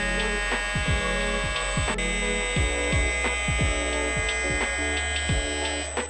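A CNC mill with its spindle at 20,000 RPM faces the top of a brass weight for a Tekno RC buggy, a steady high machine whine with repeated swooping tones as the cutter moves across the work.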